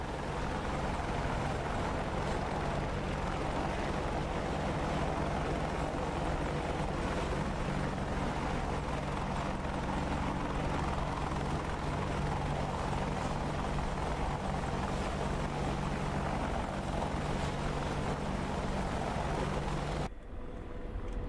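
Apache attack helicopter in the DCS flight simulator, a steady loud rotor and turbine drone that holds unbroken for about twenty seconds before cutting out abruptly near the end, with no talking.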